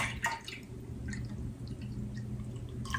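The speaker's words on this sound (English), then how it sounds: "we have our lovely parsley, ginger, and our kiwi and grapefruit and orange juice, and so I'm going to pour it now." A juice of parsley, ginger, kiwi, grapefruit and orange is poured, giving faint, close trickling and a few soft splashes and drips against a low background hum.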